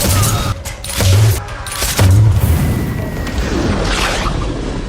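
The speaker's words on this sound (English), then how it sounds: "It sounded like, I don't know, like a mortar cannon going off because that ka-chunk thing." The Ghoul's shotgun revolver from the Fallout game fires in three heavy, booming blasts about a second apart, each a loud low thud with a mechanical clunk, followed by a fading rumble and a faint whoosh.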